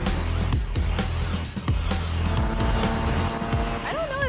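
A track car brakes hard, its loud engine note dropping repeatedly through quick downshifts, with a tire squeal rising near the end and faint voices underneath.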